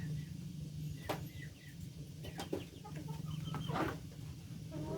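Chickens cluck in a rural Thai home setting, short calls scattered over a steady low background hum, fairly near.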